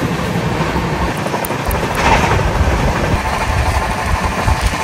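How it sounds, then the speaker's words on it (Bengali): Heard from aboard the moving 13151 Jammu Tawi Express near Dhanbad, a steady loud rumble of train wheels and carriages fills the whole stretch, with rhythmic rattling and a brief surge of noise midway. "ওই দিক থেকেও ট্রেন যাচ্ছে, যায় অ্যাকচুয়ালি, লাইন রয়েছে।"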